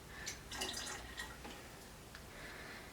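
Excess water tipped from a container back into a plastic tub holding water crystals for breeding cockroaches, a few quiet splashes and trickles up close followed by faint dripping.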